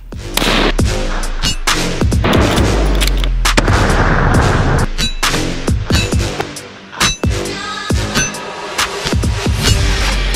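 A Sig Sauer Cross rifle fires at a target 1033 yards away outdoors, loud sharp reports booming close by and rolling away into a long echo, with further bangs and rustling afterward.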